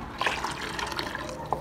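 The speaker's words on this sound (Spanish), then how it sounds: "Añadiremos agua caliente" Hot water poured into a cooking pot of soaked black beans, a soft steady splashing with a few brief gurgles, close and fairly quiet.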